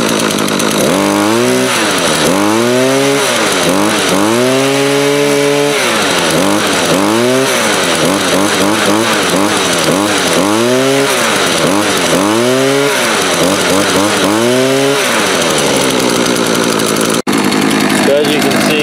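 Makita EM2600L petrol grass trimmer engine, rubber-mounted and isolated from the shaft, revving repeatedly in rising and falling bursts close up, then settling briefly before cutting off near the end.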